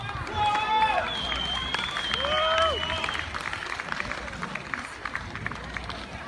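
Steady applause from a live audience after a band's set at an outdoor celebration, clapping and crowd noise continuing throughout with whistles and voices mixed in.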